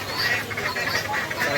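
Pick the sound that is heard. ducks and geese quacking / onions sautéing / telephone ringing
ducks and geese quacking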